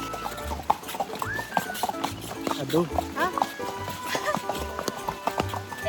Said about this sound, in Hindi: मैं घोड़ा चला रही हूँ बादलों के बीच में।